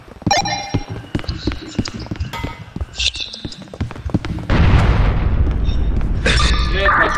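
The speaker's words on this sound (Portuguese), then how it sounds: "É pá, explosão" A loud explosion goes off in a SWAT police video game, a sudden broad roar at mid-clip that holds steady to the end, following scattered gunfire-like thumps and clicks, with someone talking.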